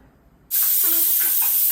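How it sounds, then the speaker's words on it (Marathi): A pressure cooker holding drumsticks in a little water suddenly bursts into a loud, steady steam hiss that starts abruptly and keeps blowing strongly, with a faint whistling tone inside it. "दोन ते तीन शिट्ट्या करून शिजवून घेऊया"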